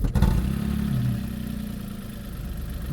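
A Smart Fortwo 451 mild-hybrid engine catches with a quick initial crank burst, then settles into a steady, close, low idle with a slight rhythmic throb.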